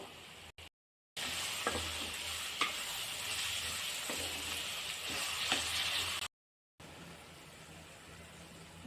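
Onions and green chillies sauté in hot oil with curry leaves for mango rice, giving a steady, close sizzle broken by occasional scraping clicks and two brief silent gaps.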